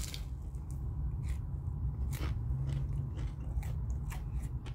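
Egg roll from a Chinese takeout spot being bitten and chewed close up, with crisp crunches and chewing noises over a steady low background rumble.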